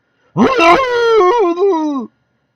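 A single long, wavering dog-like howl from a radio horror drama rises and falls for nearly two seconds, loud and close and heard on its own.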